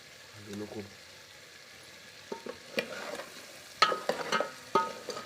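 Malvani-style crab masala is stirred and sautéed in a pan, a soft sizzle under scattered scrapes and clatters of the spoon, quiet at first and then busier, close by.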